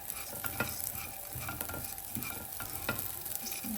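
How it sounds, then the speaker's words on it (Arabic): A hot granite cooking pot on a stove crackles and ticks quietly and continuously, like a soft sizzle, with no talking. "بصوا الحله بتطقطق من السخونيه دي او الجرانيت دي بالذات"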